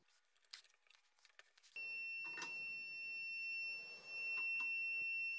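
A force meter beeps steadily and high at its maximum reading, continuous with a brief dip, following scattered clicks and creaks as it strains against a super-glued PLA joint.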